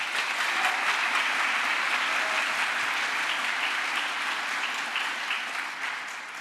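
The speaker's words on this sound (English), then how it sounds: "Please give them a round of applause." An audience at a college State of the College event claps steadily and loudly for several seconds, a dense wash of applause that fades slightly near the end.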